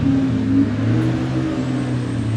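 A supercharged Ford Mustang drag car in the Pro Dial class launches at a radial drag race, its engine a loud, steady, heavy roar that holds up close for the whole stretch.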